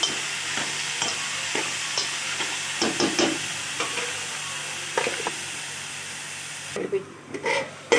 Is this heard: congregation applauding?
no